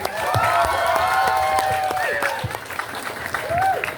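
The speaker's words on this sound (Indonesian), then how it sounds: "Tepuk tangan dulu untuk paslon nomor urut 1." Applause and cheering from a crowd at a student election candidate debate fill the space, with voices calling out and some whistle-like tones over the clapping.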